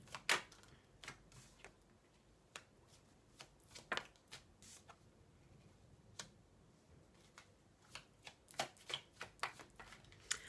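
Tarot cards are laid down and covered on a table during a reading, making soft, close, sparse slaps and papery taps at uneven intervals, with a quick cluster of taps near the end.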